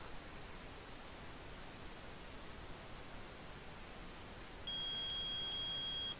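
Metal detector beeping in the video game Phoenix Wright: Ace Attorney, a sustained electronic tone that switches on abruptly near the end over a steady hiss.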